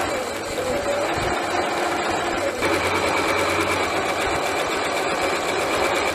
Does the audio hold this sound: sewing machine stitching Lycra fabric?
yes